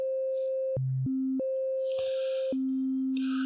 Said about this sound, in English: This is our sine wave. It sounds really nice.